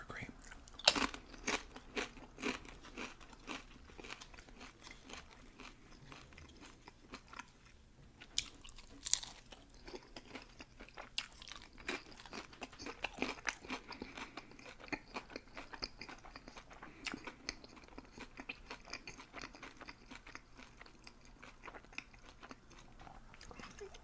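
Crunchy nachos being bitten and chewed up close in a quiet setting, with irregular crisp crunches and biting clicks repeating steadily throughout, fairly soft overall with occasional sharper snaps.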